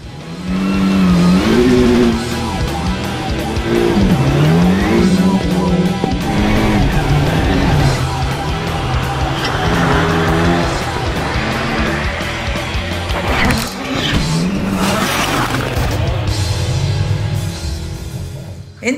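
Peugeot 208 BRX rallycross cars of 540 horsepower racing on snow, engines revving loudly and rising and falling through gear changes, passing close with sustained roaring and crackling bursts.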